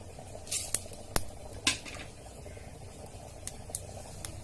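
Mustard seeds pop and spit in a little hot oil while tempering, a scattering of sharp crackles, some louder, over a faint sizzling background.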